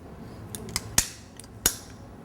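Several sharp clicks from a biscuit press trigger as cookie dough is pressed onto a sheet, spaced irregularly, the two loudest near the middle and toward the end, with no talking.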